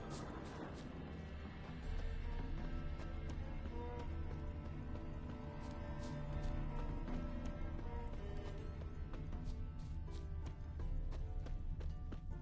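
Galloping horse hooves from the video game Witcher 3 thud rhythmically under a dense layer of game music, a steady clip-clop continuing throughout at moderate volume.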